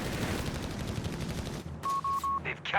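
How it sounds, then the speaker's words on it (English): A .30 cal machine gun fires a dense burst in the video game Company of Heroes 3, a loud continuous rattle that drops off into sparse game sounds and a short electronic beep. "There go 30 cal in the Panzer's personnel."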